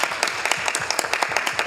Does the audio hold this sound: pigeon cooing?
no